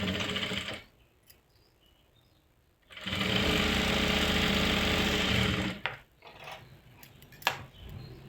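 A sewing machine runs a seam along the folded waistband of a salwar, a steady close mechanical whirr for roughly three seconds after a brief earlier burst, followed by fabric handling clicks.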